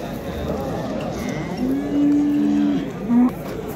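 A cow at a livestock market lowing once in a long, steady moo followed by a short second call, close by over a murmuring crowd background.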